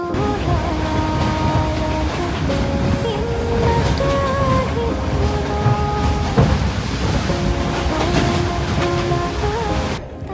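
Train ride along the sea, heard from a doorway with strong sea wind. A continuous loud roar of wind and rumbling carriage is laced with steady high whining tones from the rails.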